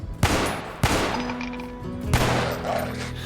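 Gunshots in the game Cataclysm: Dark Days Ahead, three sharp reports spaced apart, each followed by a short ringing decay.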